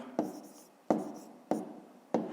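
A pen writes an answer in a notebook, giving four soft, separate scratching strokes at a slow, even pace, quiet and close with no voices.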